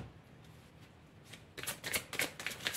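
Oracle cards are shuffled close up: a quiet start, then a quick burst of rapid, crisp riffling and flapping of card stock.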